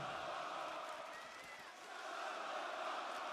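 A wrestling arena crowd roars and cheers at a WWE Raw event, a steady, broad wash of distant voices that swells slightly toward the end.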